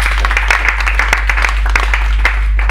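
A talk-show audience at a Holocaust remembrance event applauds loudly and steadily for a guest, with dense clapping over a strong low hum.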